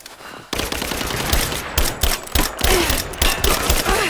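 Rapid automatic gunfire in the video game Rise of the Tomb Raider, loud bursts of shots that start abruptly and keep crackling in dense, uneven volleys, with no speech.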